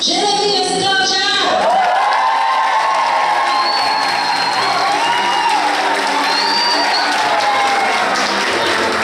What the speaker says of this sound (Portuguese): Convidamos com os nossos aplausos Jeremias e Cláudia.